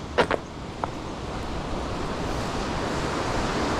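The river at Bras-Marron in Mafate, Réunion, rushes as a steady broadband wash of flowing water, with a couple of brief sharp knocks at the start, no voices.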